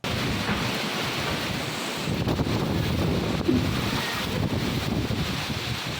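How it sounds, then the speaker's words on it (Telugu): Strong gusty wind blowing during a rainstorm, a continuous loud roaring rush with buffeting surges that rise and fall, with no voices. "బలమైన ఈదురుగాలులతో పాటు వర్షం కురవడంతో రహదారులపై నీరు నిలిచింది."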